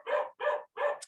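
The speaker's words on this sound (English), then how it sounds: "My goodness, sorry about my dog." A dog barks three times in quick succession, close and clear, with a short high yip at the end.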